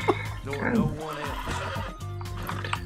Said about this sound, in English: Not shoot the horse.